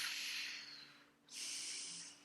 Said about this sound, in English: Big audible exhale.